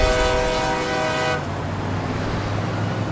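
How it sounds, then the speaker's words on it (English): Amtrak's Coast Starlight at Union Station sounds a loud, tonal horn blast for just over a second, then a steady low rumble of the train continues close by. "We are going to hop on the Coast Starlight. So we're taking the train 35 hours."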